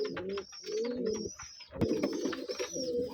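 Pigeons coo in repeated soft, throaty phrases on a pigeon farm in Rajshahi, close and fairly loud, with brief pauses between calls.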